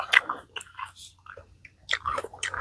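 Crunchy bites and chewing of crisp Thai eggplant with herbs, close to the mic, in quick irregular bursts separated by short pauses.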